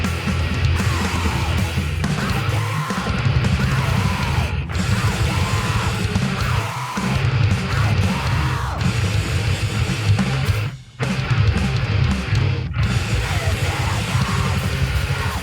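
Fast, dense extreme music from a cassette, with harsh yelled vocals over pounding drums and distorted guitars, loud and relentless with a couple of abrupt breaks.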